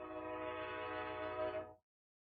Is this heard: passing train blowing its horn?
yes